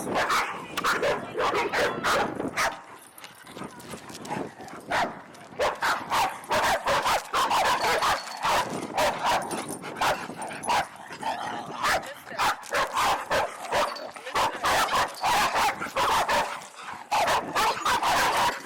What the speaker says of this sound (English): We're at the dog park and it's a whole bunch of barking.